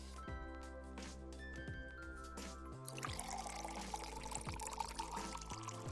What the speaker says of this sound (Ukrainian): Тепер наливаємо молоко.